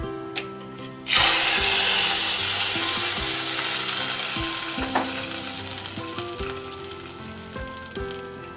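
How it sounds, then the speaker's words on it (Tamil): Mustard seeds and curry leaves hit hot oil with a sudden loud burst of sizzling and crackling that stays steady and close, slowly easing over several seconds, with faint clinks of a utensil on the pan. "கறிவேப்பிலை இருந்தா நீங்க தாளிக்கும் போது கறிவேப்பிலை சேர்த்துக்கோங்க"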